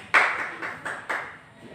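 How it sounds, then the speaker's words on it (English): Students in a classroom give a few claps as a reward, four or five spaced, slightly uneven hand claps that fade quickly, nearby and fairly quiet, with no talking. "let's clap your hand because you got the correct answer again"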